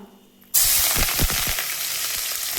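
Onion goes into hot mustard oil in a pan, and after a half-second of quiet a loud, sudden sizzle bursts up and stays strong, with a few crackles and pops close by and no speech.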